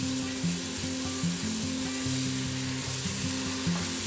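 Onions fry golden in a pan for Lahori murgh cholay with a soft, steady sizzle under a low background hum, continuous and close, with no voices.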